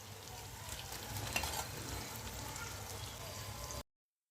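Okra going into bubbling gravy in a pan, a steady broadband sizzle and simmering hiss with a brief clatter midway, ending abruptly.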